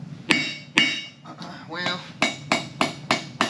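Sharp metallic hammer strikes flatten hot forged metal, two spaced blows, a brief pause, then a quicker run of five even hits; a voice speaks briefly.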